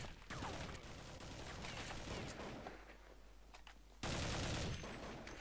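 Rapid gunfire bursts from the video game Counter-Strike 1.6, loud and dense throughout, with a brief lull near the middle and a sharp, louder burst of shots toward the end.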